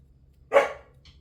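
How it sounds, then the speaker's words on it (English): A single sharp dog bark rings out in an indoor hallway, loud and close, followed by quiet. "I better let her in or she's not gonna stop barking."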